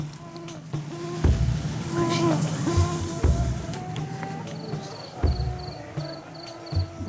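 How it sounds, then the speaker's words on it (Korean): Thin buzzing and chirping of mosquitoes persists over a quiet beach at night, with occasional soft thumps and faint tonal hums throughout. "해변에는 깊은 침묵으로 모기 소리만 요란합니다."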